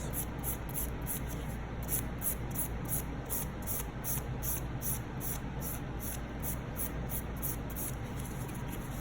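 Acrylic nails being filed with a 180 grit file, a steady close scratchy rasp of rapid back-and-forth strokes running evenly throughout with no talk.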